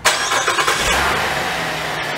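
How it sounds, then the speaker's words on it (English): A car engine cranks with a few quick turns and catches, boosted by a NEXPOW AP1 jump starter, then settles into a loud steady run close by. "Once your vehicle cranks up like this one did, you would actually leave the car running for a little while"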